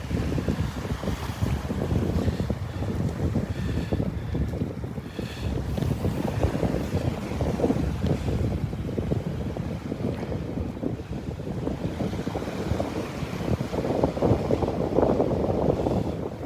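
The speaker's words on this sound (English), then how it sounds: "The wind's dying down a little bit." Steady wind buffets the microphone on a beach at Wiggins Pass in North Naples, Florida, a continuous gusty rumble with surf beneath it throughout, no voices heard.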